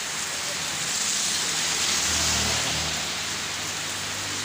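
Steady, dense hiss of heavy rain pouring down, loud and constant throughout with no pauses.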